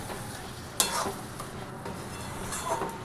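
Mutton sautéed in mustard oil in a pan sizzles softly while a spoon stirs it, with a sharp scrape near the start and a brief clatter later, fairly quiet and close.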